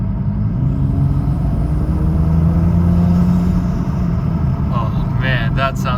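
A BMW 435i engine with a newly installed air intake drones and rumbles steadily close by, rising slightly in pitch, with sharp hissing bursts near the end like blow-off whooshes.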